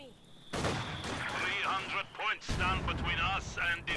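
Sniper rifle fire in a competitive online shooter match, bursts of gunfire and game effects running under fast, excited commentary throughout.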